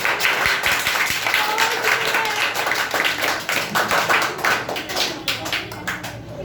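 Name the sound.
audience clapping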